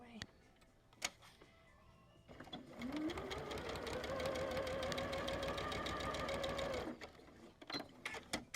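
Sewing machine stitching quilt triangles, a steady loud rapid hum-and-tick that runs for about four seconds after a couple of sharp clicks, then stops, with soft handling noises around it.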